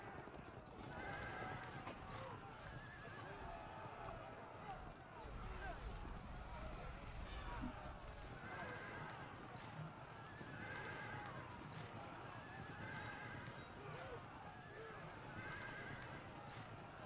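Horses in the strategy video game Field of Glory II whinny again and again at regular intervals over a steady rumble of galloping hooves and battle noise, continuous throughout.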